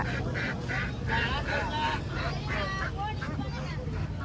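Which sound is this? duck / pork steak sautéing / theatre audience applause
duck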